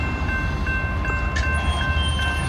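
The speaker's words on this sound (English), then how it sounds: "Well, that horn doesn't sound very good." The horn of CSX freight train M506, a mixed manifest, sounds as a steady, fairly loud tone held through the whole moment over rumbling train noise, somewhat distant rather than right alongside.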